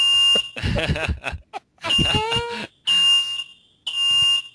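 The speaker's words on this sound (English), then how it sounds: "fire alarm just went off" A hotel fire alarm sounds in the middle of the night, a loud, piercing electronic tone repeating in bursts of about a second with short gaps, while people talk over and between the blasts.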